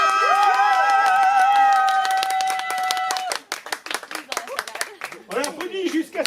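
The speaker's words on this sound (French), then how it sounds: "On l'applaudit jusqu'à son arrivée." At a slam poetry evening, a sustained tonal note gives way to a burst of audience clapping: quick, dense claps that thin into scattered hands, with voices calling out over the end.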